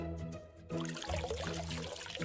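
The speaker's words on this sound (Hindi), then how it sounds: "इस तरह पानी नहीं देते, पौधों की जड़ों के पास जमीन पर पानी देते हैं।" Cartoon water poured over plants in a garden, a continuous splashing pour that starts after a short musical lead-in and runs steadily over background music.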